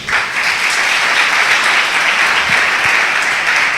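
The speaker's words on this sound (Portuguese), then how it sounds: "Dá um lindo aplauso ao Espírito Santo." A church congregation breaks into loud, sustained applause, a dense crowd clapping close and continuous without a pause.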